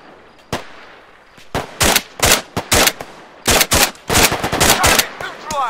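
Gunfire in the Arma 3 video game: loud, near bursts of automatic fire in irregular clusters, with brief gaps between volleys and sharper single shots.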